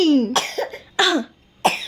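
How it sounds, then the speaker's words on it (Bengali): A baby coughs three times in short, loud, close bursts separated by brief pauses, with no talking. "আমার বাবা তার কাশি হচ্ছে"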